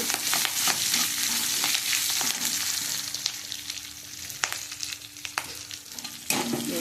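A pan of vegetables frying for an Udupi-style jackfruit and Malabar spinach curry, with a steady close sizzle and brisk, repeated stirring and scraping of a spoon against the pan, and no voices.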